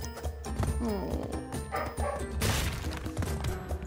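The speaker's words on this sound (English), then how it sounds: "You can hear my dog barking." Golden retriever barking in excited bursts close by, mixed with clatter and thumps from a cluttered room, with game sounds running underneath.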